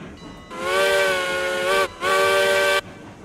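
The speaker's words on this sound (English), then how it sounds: "And the whistle is sure pretty neat." A steam locomotive whistle in the RailRoads Online video game, loud and near, sounding two long sustained blasts with a short break between, over a faint background hiss.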